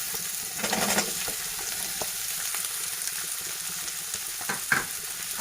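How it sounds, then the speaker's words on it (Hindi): Ginger garlic paste sizzles in hot oil for a Veg Manchurian gravy, a steady close crackling hiss with a few sharp spatters and stirring clicks. "अब ये ऑयल गर्म हो चुका है, हम इसमें ½ टी स्पून जिंजर गार्लिक का पेस्ट डालेंगे। इसको फ्राई करेंगे।"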